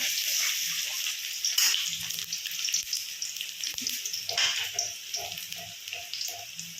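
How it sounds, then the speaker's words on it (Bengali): Potato pieces frying in mustard oil in a home kitchen pan, a steady hissing sizzle with crackling pops and small clinks throughout. "আগে আলুটা খুব ভালো করে ভাজা করবো"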